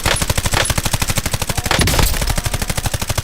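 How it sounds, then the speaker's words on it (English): Rapid automatic gunfire from the video game Warzone rattles in a fast, even stream of sharp bursts, loud and close, with a heavier blast mixed in near the middle. "Taking fire."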